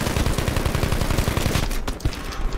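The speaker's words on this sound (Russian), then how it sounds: "Это пулемет же." Rapid machine-gun fire in Battlefield 5, a loud, dense run of closely spaced shots through most of the clip that breaks into a few scattered, weaker bursts near the end.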